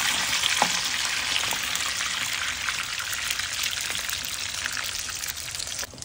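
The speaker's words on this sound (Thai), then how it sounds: "น้ำมันร้อนแล้วราดไข่ลงไปเลย" Beaten egg seasoned with fish sauce hits hot oil for a Thai tofu omelette, setting off a loud, dense, crackling sizzle that runs steadily before easing at the end.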